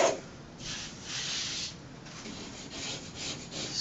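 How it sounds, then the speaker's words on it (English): A scraper smoothing a wall before wallcovering goes on, several close scraping strokes with rhythmic rasping rubs, rising and falling with each pass, no voices. "Scrape off any little bumps."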